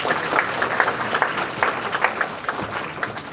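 An audience in a political campaign event crowd claps steadily for a state senator, a dense, even wash of applause heard close with no pauses.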